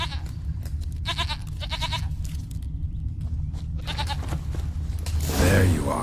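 A goat bleats in The Witcher 3, several short wavering bleats in a row, fairly close and clear over a low ambient game background, with a louder sound burst at the end.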